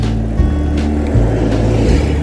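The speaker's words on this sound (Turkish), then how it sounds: "Karşıdan otobüs geliyor." A bus approaches on a road on Marmara Island, heard from a bicycle. Its low engine hum drones loudly and steadily under a rushing, wind-like noise, with no talking.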